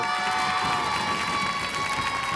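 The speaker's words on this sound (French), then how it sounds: "Regardez, ils sont là, applaudissez-les." A crowd of schoolchildren from a Boulogne sports centre cheers and claps in a steady, loud wash of shouting and applause that fills the whole stretch without a break.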